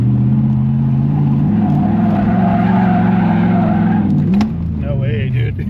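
A Mitsubishi Starion with a swapped 1UZ-FE V8 sliding, its engine droning loud and close as the tires skid and squeal, the engine pitch dropping near the end.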